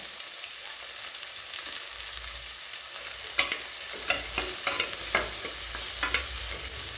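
Onions sautéing with cinnamon sticks in a pan for tomato rice, a steady close sizzle with scattered spoon clinks and scrapes as they are stirred toward golden brown.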